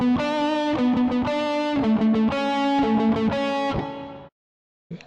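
A distorted electric guitar plays a fast run of notes from a solo, loud and buzzy, cutting off abruptly, then a brief silence and another short plucked note.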